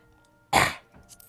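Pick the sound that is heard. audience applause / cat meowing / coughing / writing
coughing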